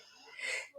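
A single short, faint sneeze, an airy burst that rises and cuts off within a second in a quiet room.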